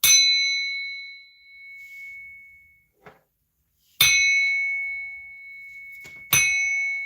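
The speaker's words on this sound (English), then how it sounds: "I'm going to bang this bell to remove and block all evil eye entities" A metal bell is struck with a stick three times, each clear ringing strike decaying slowly, with a faint tap between the first and second strikes.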